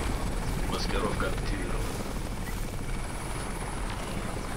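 Helicopter rotor drone from the video game Crysis, a continuous throbbing roar at moderate level, with a few faint game effects layered over the start.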